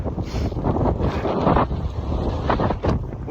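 Strong gusting wind buffets the microphone, a loud continuous roar with rumbling low end and brief surges, no voices.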